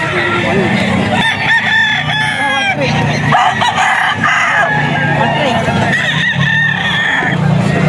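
Several roosters crow repeatedly over a busy background of clucking chickens and people talking nearby, loud and continuous throughout.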